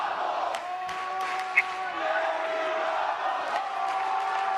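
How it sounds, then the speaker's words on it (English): Crowd at a grappling match, a dense wash of voices and cheering that carries steadily through the stretch, with scattered shouts and a faint rhythmic chant inside it. "you hear the crowd chanting Eddie Bravo."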